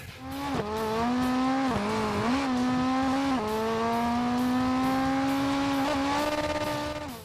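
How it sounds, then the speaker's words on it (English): A rally car engine buzzes steadily at high revs, its pitch dipping briefly with gear changes before holding a sustained, loud drone. "rally cars emit this bumblebee-like sound"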